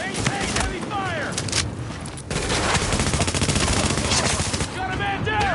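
Heavy automatic gunfire in the video game Tom Clancy's The Division bursts in dense, loud volleys that run nearly nonstop, with soldiers shouting over the shooting.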